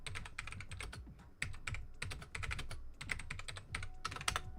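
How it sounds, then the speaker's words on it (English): Rapid typing on a computer keyboard, a close, steady stream of key clicks in quick bursts with short pauses, no voices. "I can type quite quickly on that keyboard"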